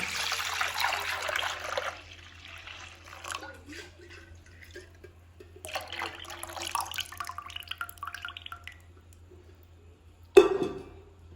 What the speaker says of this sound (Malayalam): ഇനി നമുക്ക് ഈ പാല്, 2 ലിറ്റർ പാലുണ്ട്, ഇത് ഇതിലേക്ക് ഒഴിച്ചു കൊടുക്കാം കേട്ടോ